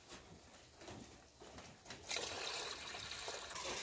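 Water being poured into a cooking pot, a soft trickling that swells into a steady louder pour in the second half, recorded in a quiet outdoor village kitchen.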